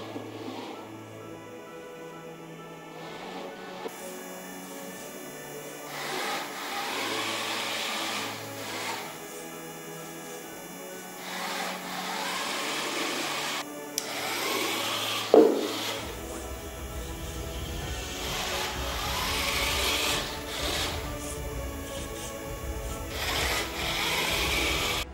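The 300 RPM motors of an Arduino obstacle-avoiding robot with an ultrasonic sensor and L298N motor driver whir in repeated bursts, starting and stopping with clicks and knocks, nearby and moderately loud.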